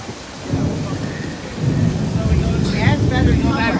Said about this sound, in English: Like if the thunder was like just played on speakers.